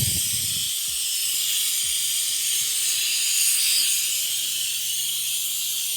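An oil extractor pump draws oil from a 3.0T engine in an Audi S4 B9 with a continuous airy hiss, after a few soft low knocks at the start.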